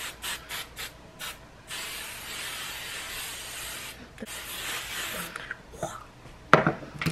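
Hairspray mists from an aerosol can in short hissing bursts, then in one long continuous spray, close to the listener, with a few clicks and rustles near the end.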